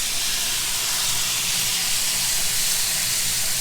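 Shrimp sizzle in butter in a hot pan, a steady broadband hiss that holds evenly throughout at moderate loudness with no talk over it.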